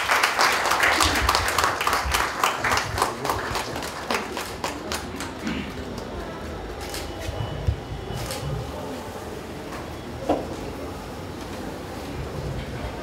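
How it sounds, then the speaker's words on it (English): An audience at a Women's Day celebration claps loudly at first. The applause then thins into scattered claps that taper off. "So, a huge round of applause please."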